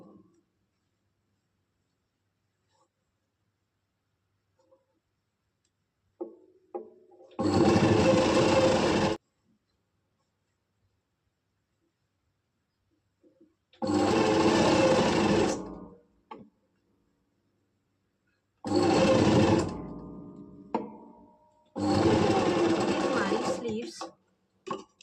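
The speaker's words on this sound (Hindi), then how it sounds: "अब हम जहाँ से हमने सेंटर पॉइंट से सिलाई लगानी स्टार्ट की थी वहां से हम दूसरी साइड भी सिलाई लगा" A sewing machine stitches a kameez in four separate runs of steady, close mechanical whirring, with near silence between runs.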